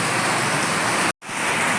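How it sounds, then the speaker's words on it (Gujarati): Heavy rain pours outside a clinic where water is flooding in, a dense, steady hiss that drops out for a split second before resuming just as loud. "કેટલો બધો વરસાદ છે"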